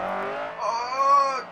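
In the racing video game Forza Horizon, a Honda CR-X engine revs high near maximum RPM, a whining, rising tone with a tire squeal laid over it, heard briefly and fairly close.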